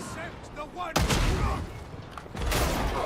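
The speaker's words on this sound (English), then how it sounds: "I think there's a sniper behind us." Gunfire in Warhammer 40,000: Darktide, with loud bursts of shots and booms arriving in two heavy waves, with people talking over the top.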